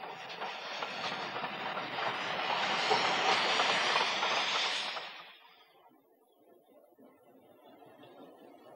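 An LMS 0-6-0 steam locomotive, number 4422, passes with a broad hissing rumble and clatter of wheels that swells, then cuts off abruptly, leaving a faint low background.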